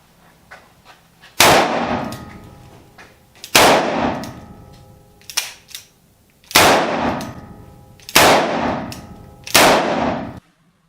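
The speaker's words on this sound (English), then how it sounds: "He's going to fire 6 rounds." Six .44 Magnum revolver shots fired at a soft armor vest during a torture test, loud sharp blasts spaced about one to two seconds apart, each with a ringing decay, no talk between them.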